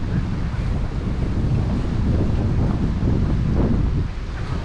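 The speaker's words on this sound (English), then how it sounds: "it's not really anything to block the wind from us" Strong wind buffeting a microphone on a San Francisco hilltop, a loud continuous low rumble with gusty surges throughout and no other sounds.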